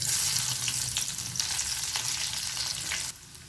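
Steady close sizzling and crackling of finely chopped shallots frying in hot oil until golden, with light stirring scrapes, quieting slightly near the end.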